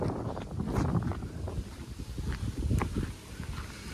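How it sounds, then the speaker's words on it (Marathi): Strong wind buffets and roars against the microphone in uneven gusts, fairly quiet overall, with no voices. "एवढी हवा चालली"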